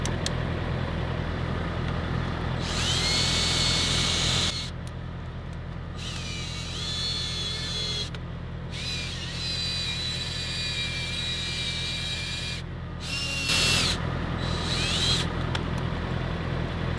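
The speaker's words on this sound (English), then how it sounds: "So we need to drill around this area more." A power drill works on a semi truck light during restoration, a loud, steady whirring grind that runs in long bursts with short pauses and changes of pitch between them.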